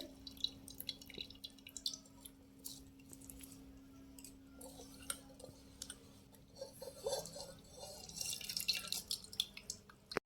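Grated snake gourd squeezed by hand in a kitchen sheds water in faint scattered drips and soft squelches over a low steady hum, close but quiet.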